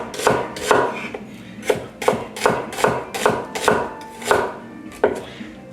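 A Spanish onion being thinly sliced with a knife on a board for gyudon, about a dozen crisp, evenly spaced chops, close and clear with no talking.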